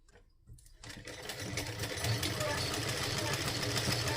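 A sewing machine stitches salwar fabric with a seam about half an inch in, starting after a quiet moment and then running as a steady, close mechanical whir with a rapid needle rhythm until the end.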